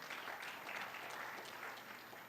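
Congregation clapping in church during a sermon, a brief, faint burst of many hands applauding steadily at a distance.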